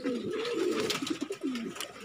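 A pet pigeon coos up close, a soft low throaty series of rolling notes repeated several times with no talk.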